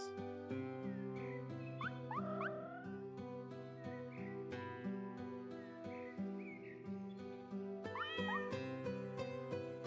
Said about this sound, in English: that one was a cat